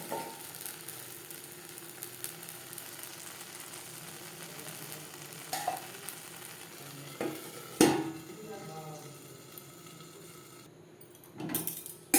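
A little water sizzles in a pitha pan for dudh chitai pitha before the lid goes on, a steady low hiss with occasional clinks and a sharper clatter near the end.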